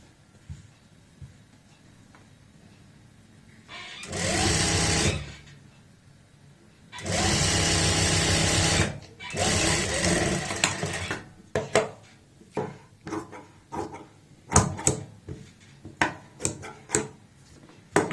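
A sewing machine stitches palazzo fabric in three loud, steady motor bursts of a few seconds each, followed by a series of sharp mechanical clicks and clacks as the fabric is handled.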